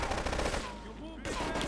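Gunfire during a gunfight in Grand Theft Auto III: a quick burst of rapid automatic shots, then a brief lull and another loud burst, close and dense.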